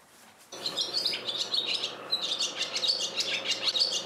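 Urban swallows nesting alongside people chirp and twitter in rapid, bright bursts, a busy overlapping chorus starting suddenly and continuing close and clear with no voices.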